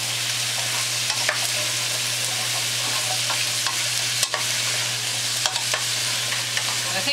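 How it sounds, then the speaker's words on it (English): Potato-chestnut soup ingredients stirred in a pot, with a soft continuous scraping and sizzling bed, occasional spoon knocks against the pot, and a steady low hum underneath. "let's stir it for a moment"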